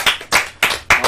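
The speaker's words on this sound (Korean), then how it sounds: "박수!" A few people clap in four short, close bursts during a K-pop group's live broadcast, brief crisp hand claps at a fairly even pace with no talk.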